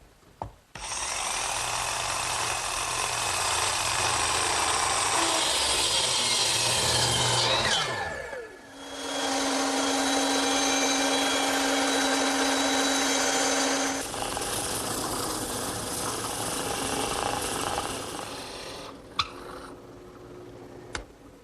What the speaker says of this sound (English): I'm going to clamp it in my bench vise and cut out the rest of the inside with the jigsaw.